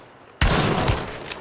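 Gunfire in the video game Hunt: Showdown: a sudden loud burst of shots that stays loud and echoing, with another crack near the end and no speech.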